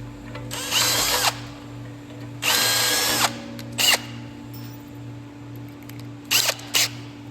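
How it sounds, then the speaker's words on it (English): Drilling holes in a custom car center console: several separate bursts from a power drill, two long runs and a few short ones, near and loud, over a steady low mains hum with no talk. "I'm gonna go ahead and drill and tap these that same 1024."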